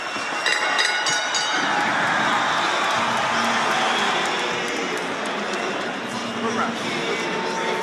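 A boxing arena crowd roars during a bout between Kovalev and Jean Pascal, a loud sustained swell of cheering under a commentator's voice.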